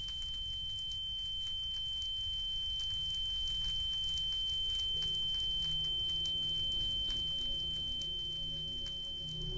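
A steady high-pitched ear-ringing tone after an explosion in the video game The Crafting Dead holds throughout, sitting over a low rumbling background with faint crackling fire.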